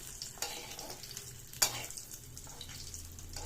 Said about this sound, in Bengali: একটু উল্টে পাল্টে কড়া করে ভেজে নেব,